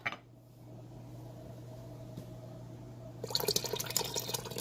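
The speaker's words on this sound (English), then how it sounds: "we're just going to pour it all into the big pot over here and stir it up" Milk mixture for keto yogurt being poured into a big Instant Pot: a close, steady liquid splash and trickle building in the final second and a half after a quiet lead-in with a faint hum.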